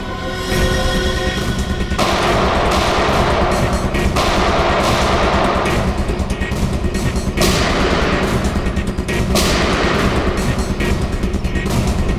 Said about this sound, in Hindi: गोलियां चला कौन रहा है?